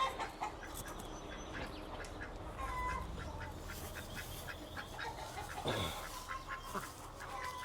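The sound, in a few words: pet ducks on a farm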